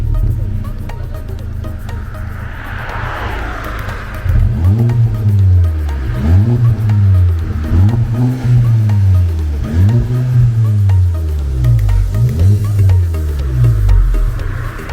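Audi tuned with a half-line exhaust revving repeatedly at a tuning meet, a quiet idle giving way to loud, rhythmic rises and falls of the engine, several blips in steady succession close by.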